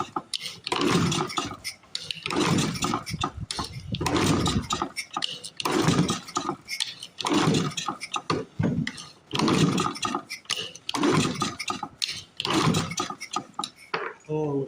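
A 1930s Briggs and Stratton Model Y engine, flooded, being cranked repeatedly without catching: rhythmic bursts of pull-start churning and clatter, close and loud, in repeated attempts with brief pauses.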